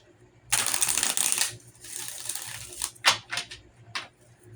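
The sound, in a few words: shuffling tarot cards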